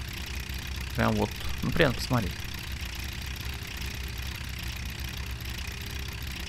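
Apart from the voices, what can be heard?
small tractor engine idling in video game Farming Simulator 17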